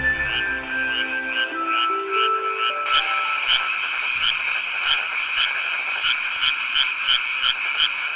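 Male tree frogs give a loud, steady chorus of croaks, a dense continuous trill with regularly repeating call pulses, close and unbroken throughout with no voices.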